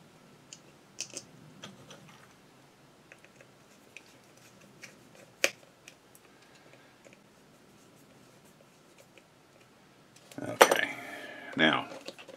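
Screws go back into the socket of a Singer 221 Featherweight sewing machine: sparse, faint metallic ticks and clicks, then a louder cluster of clinking and rattling metal near the end.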